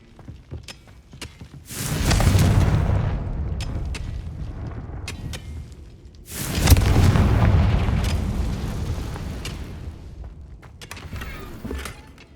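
Two heavy blasts from the Confringo fire spell in Hogwarts Legacy, each a sudden loud boom followed by a long rumbling decay, with scattered sharp cracks and pops around and between them.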